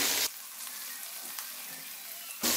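A burst of loud sizzling as vegetables for egg noodles hit hot oil in a pan, hissing steadily for a couple of seconds before fading.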